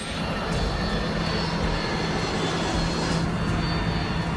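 A loud, continuous roar of an airplane engine in a dive, steady and close, with a droning hum underneath.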